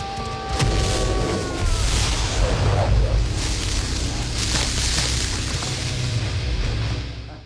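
A cinematic fight-scene explosion as Scorpion blows apart in Mortal Kombat (1995): a loud, dense boom that swells and rolls on for several seconds under a layered, noisy soundtrack, with a brief tonal sweep near the start.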